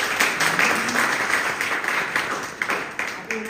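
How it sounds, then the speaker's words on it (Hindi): Applause from the audience at a business plan meeting, steady clapping throughout, moderately loud and close, mixed with voices and a faint whistle-like cheer near the end. "एक बार जोरदार तालियां चाहेंगे"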